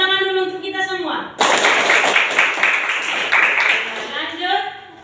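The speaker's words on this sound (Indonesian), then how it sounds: "Oke, tepuk tangan dulu untuk kita semua." An Indonesian classroom group gives itself a round of applause, a dense, steady burst of many hands clapping for about three seconds, with speaking before and after.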